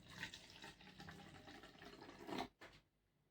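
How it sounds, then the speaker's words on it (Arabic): Hot water is poured into a measuring cup to the half-cup mark, a quiet, continuous splashing trickle that runs for a few seconds and then stops. "نحط نص كوبايه ميه"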